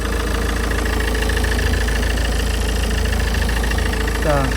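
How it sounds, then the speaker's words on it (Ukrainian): A 2018 Peugeot Expert's 2-litre diesel engine idles steadily with a constant low rumble and a faint knocking rhythm, close and continuous throughout. "2-літровий дизельний двигун."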